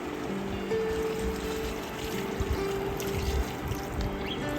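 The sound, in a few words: pouring water into cooking potatoes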